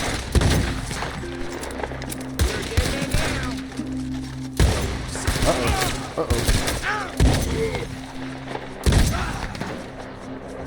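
Gunshots in Red Dead Redemption 2 while hunting a bear: a burst of loud, sharp shots and heavy thuds at uneven intervals over about ten seconds, with someone talking in the middle of it.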